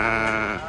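A sheep lets out a single loud, wavering bleat up close at the Kyzylorda livestock market, brief and clear.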